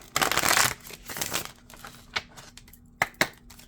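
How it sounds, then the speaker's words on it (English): Tarot cards shuffled by hand in a reading, a dense riffling burst up front, then a softer second run and a few sharp separate snaps and flicks near the end, close and unaccompanied by talk. "Last shuffle."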